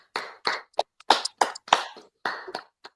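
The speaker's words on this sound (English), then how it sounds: "let's give Renee a round of applause" At the AITP Lone Star IT Champion Awards, a small, mostly remote audience gives Renee a round of applause. About a dozen sharp, close hand claps ring out separately in an irregular, sparse rhythm with silent gaps between them.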